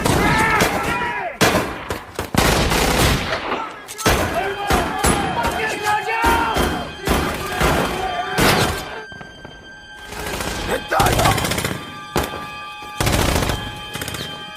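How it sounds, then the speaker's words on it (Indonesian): Gunfire in a battlefield firefight between American and Japanese troops, with repeated sharp bursts and volleys at irregular intervals over a busy, crowded backdrop of shouting and commotion. "Baku tembak pun terjadi"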